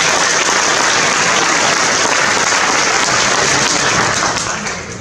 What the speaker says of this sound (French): Oui, on peut encore l'applaudir.